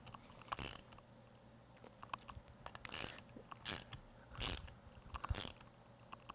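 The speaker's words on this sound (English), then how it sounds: "I will switch now to the socket, and I'll make sure they're all nice and flat by hand" Socket wrench tightening lug nuts during a wheel assembly, heard as several short separate ratcheting bursts spaced over a few seconds, close and fairly quiet, with no talking.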